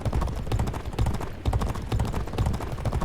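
Horse hooves gallop in a fast, steady drumming rhythm during a race in the 2008 video game G1 Jockey 4, loud and close with no voices over them.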